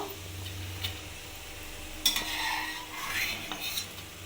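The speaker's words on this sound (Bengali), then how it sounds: "এবার কড়াইয়ের মধ্যে আমি অল্প অল্প করে আলুগুলো দিয়ে ভেজে নেব" Potatoes frying in a wok with a faint sizzle while a metal ladle stirs and scrapes, producing a few sharp clinks and scraping bursts over a low steady hum.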